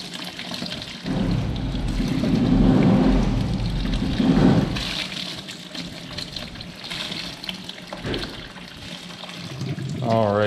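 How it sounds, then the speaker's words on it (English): Water pours and splashes steadily as it drains from the flushed cooling system of a Triumph Daytona 675 motorcycle, a continuous rushing flow with a person speaking over it. "now that we've flushed it a few times, we've got some pretty clear water coming out"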